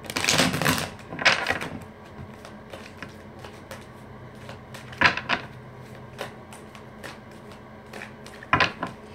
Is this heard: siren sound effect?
no